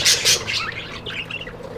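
Female budgies chirping at a smart birdhouse, a couple of sharp, loud squawks up close followed by quicker, softer chirps and tweets.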